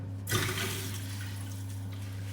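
Mains water rushes into a plumbing pipe as a valve is opened, starting as a sudden loud hiss and settling into a steady, close, continuous flow with a low hum underneath.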